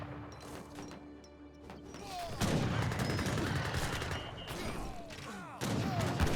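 Rapid Gatling gun fire and clattering battle noise in Age of Empires 3, a steady stream of shots with louder bursts partway through, heard over a faint background.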